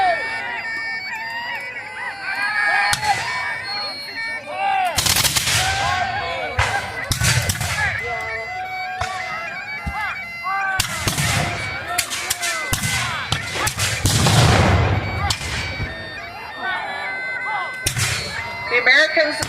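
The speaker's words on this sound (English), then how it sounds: "The Americans and the British are still firing their cannons at each other" Cannons boom at a War of 1812 reenactment as Americans and British trade fire, sharp loud blasts recurring irregularly with crowd noise and voices between shots.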